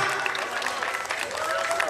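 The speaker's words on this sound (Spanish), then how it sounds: "Eso, bonito, bonito los aplausos." Crowd at a San Lorenzo village fiesta in San Francisco, near Coecillo de Silao, applauds in a steady, dense wash of clapping, loud and unbroken from start to finish.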